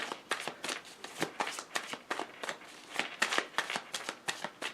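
Tarot cards are shuffled by hand in quick, crisp riffling bursts, about a dozen short flutters in an even rhythm, close and fairly quiet with no talk.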